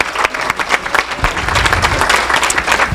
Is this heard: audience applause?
yes